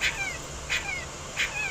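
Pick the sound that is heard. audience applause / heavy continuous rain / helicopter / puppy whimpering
puppy whimpering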